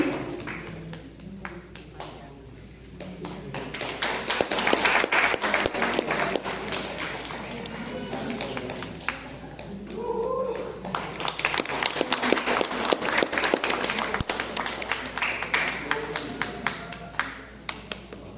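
An outdoor crowd at a kayaking challenge applauds the sprint race winner, sustained clapping swelling and ebbing over many seconds with scattered taps and a brief tonal ping midway.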